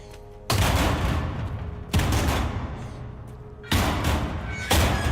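Revolver gunfire in the video game Resident Evil Requiem: four loud, booming shots spaced a second or more apart, each trailing a long reverberant tail.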